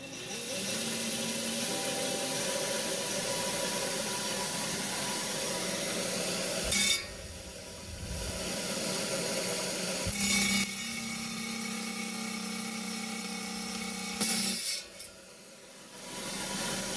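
An 8-inch trim saw cutting a slab of Idaho Sunset jasper, a steady, loud grinding whine of the blade through stone, broken by two brief pauses and restarts, with no talking.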